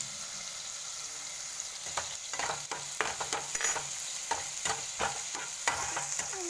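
Onions fry in a pan with a continuous soft sizzle, and repeated scraping strokes of stirring rise above it every half-second or so, close and alone without talk.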